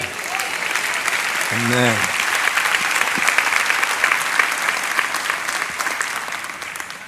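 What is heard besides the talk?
congregation applause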